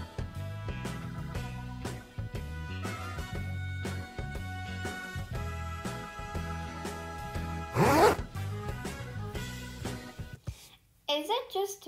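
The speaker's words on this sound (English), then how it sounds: "Is it just me, or is the zipper like 100 times louder than it should be?" A zipper is pulled in several quick, loud rasps, with one long sharp zip standing out, over steady background music.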